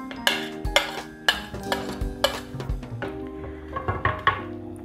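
Onions being stirred in a pan for Georgian ostri produce repeated close metallic clanks of a spoon against the pan, about half a dozen distinct hits in an uneven rhythm.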